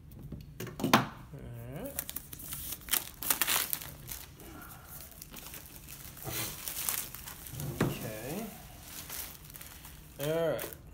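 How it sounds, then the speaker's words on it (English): Plastic wrap is peeled off a 15-inch MacBook Pro box with close, irregular crinkling and crackling in bursts, interrupted by a few brief vocal sounds. "I'm going to take the plastic off here. Take the plastic off."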